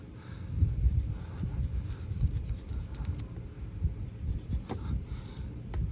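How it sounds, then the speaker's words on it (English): A knife sawing off the excess end of a tire repair plug, heard as close, low, continuous rubbing and scraping strokes with a steady rhythm, quiet and without talk. "Now, grab a knife, cut off the excess."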